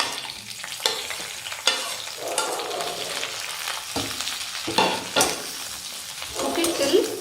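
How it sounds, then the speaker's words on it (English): Bhaji Milagai chillies fry in a few teaspoons of hot gingerly oil, giving a steady loud sizzle broken by several scraping stirs across the pan. "On the stove, just 4, 5 to 6 teaspoons of gingerly oil. Then add this Bhaji Milagai."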